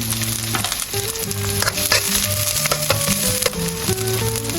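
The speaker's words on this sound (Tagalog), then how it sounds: "Ilagay na natin ang sibuyas sa mainit na mantika. Sunod ang bawang," Onion and garlic sautéing in hot cooking oil for a chicken gizzard dish in coconut cream, a steady loud sizzle with stirring scrapes throughout, alone without talk, with some background music tones.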